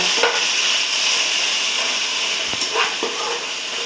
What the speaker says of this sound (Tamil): இதை வந்து நல்லா வதக்கி விட்டுறேன்